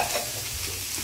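Food in a wok sizzles loudly in one brief, dense burst as salt goes in and a spoon stirs it, close and continuous with no voices.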